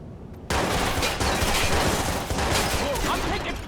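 Sustained gunfire in the video game Watch Dogs: a dense, loud wall of rapid shots starting abruptly and continuing without pause for about three seconds, close with no talk.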